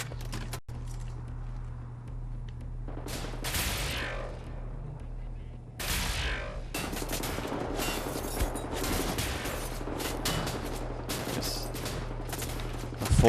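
Gunfire and a heavy full-charge energy blast in Wolfenstein: The New Order, with bursts of rapid shots and sharp explosive cracks over a constant low game hum, dense and loud through most of the stretch.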